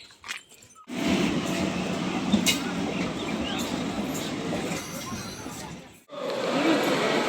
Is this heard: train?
yes